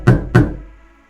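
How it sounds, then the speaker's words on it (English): Two sharp knocks on a front door in quick succession, loud and close, followed by a short fading resonance. "He was knocking at my front door."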